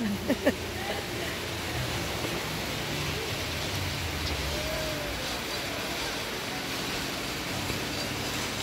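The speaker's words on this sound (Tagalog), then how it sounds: "Nagkusog ang ulan." Steady, dense heavy rain hiss at a resort fills the whole stretch, a constant broadband wash with a couple of brief knocks near the start.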